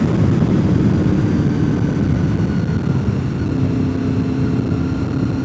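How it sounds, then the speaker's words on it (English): A steady engine drone with rushing wind noise runs throughout, loud and close, like riding a motorcycle at speed. "as I'm riding my motorcycle"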